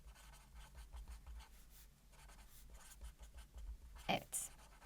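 Handwriting with pen or marker, heard as faint, close scratchy strokes in short bursts, with a sharper squeak near the end.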